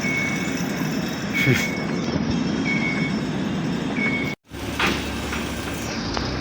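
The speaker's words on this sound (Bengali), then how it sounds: "এটা হচ্ছে মালয়েশিয়ার রেলওয়ে স্টেশন" A train at a Malaysian railway station, Bharu Railway Station, heard as a steady broadband rumble of rail movement with faint tonal squeals. The sound cuts out briefly near the end, then resumes.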